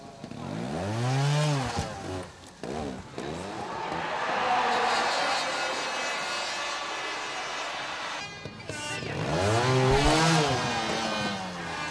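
Dougie Lampkin riding a Montesa trials motorcycle at an indoor arena trial: loud engine revs rise and fall in short bursts, with a sustained rasping drone between them and a final sharp rev near the end.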